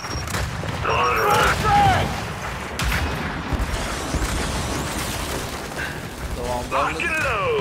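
A grenade goes off amid gunfire in Gears 5 horde mode: a deep rumbling blast near the start followed by scattered gunshots and mechanical clatter, mixed with voices calling out over the fighting.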